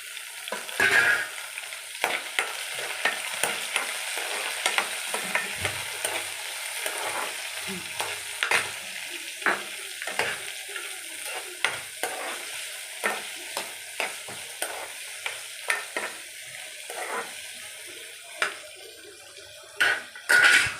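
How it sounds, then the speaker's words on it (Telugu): Peanuts, almonds, cashews, carrot and tomato fry in a pan with a continuous sizzle, broken by frequent rhythmic scraping and clinking of a spoon stirring against the pan. "అవి బాగా ఫ్రై అవ్వాలి."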